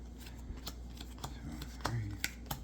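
Board game cards for Final Girl are shuffled into a deck by hand, a few soft riffling and tapping bursts up close, quiet, with faint room noise and brief voice.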